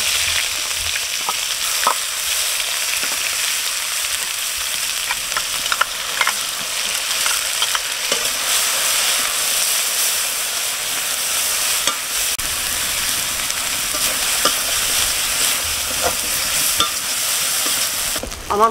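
Spices fry in hot oil in a wok, a bright steady sizzle that runs close and continuous, with occasional scraping clicks from stirring and no talk.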